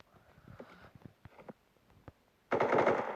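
Machine gun fire in a video game, a sudden close and loud rapid burst of shots near the end, following a stretch of quieter clicks and handling sounds.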